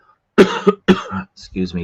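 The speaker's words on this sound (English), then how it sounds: "I'm dealing with a little bit of a cough" A few sharp coughs close by, one after another with short pauses, ending in a brief throat-clearing sound.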